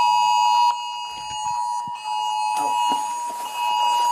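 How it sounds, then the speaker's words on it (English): Phones go off together with a steady, piercing electronic alarm tone that holds throughout, while faint clicks and rustles drift underneath and the level dips briefly now and then. "I think it's their phones going off"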